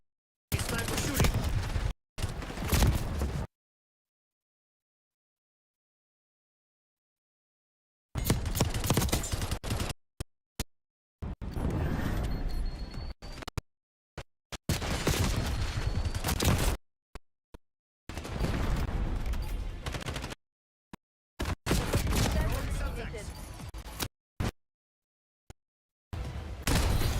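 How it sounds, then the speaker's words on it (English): Bursts of sniper rifle fire crack out in loud clustered sequences, separated by abrupt gaps of total silence, with busy echoing gunfire filling each segment. "Sniper shooting."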